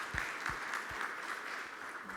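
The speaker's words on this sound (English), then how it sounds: "Big round of applause." Conference audience at a RECon MENA 2015 session claps for a departing speaker, a moderate, fairly soft and even round of applause with a few sharper nearby claps standing out.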